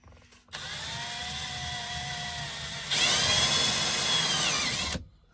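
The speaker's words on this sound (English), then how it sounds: "Now I'm gonna take a step bit and kind of just drill it in" A power drill with a step bit runs steadily at high speed, loud and close, its pitch rising slightly as the bit bites deeper, then stops.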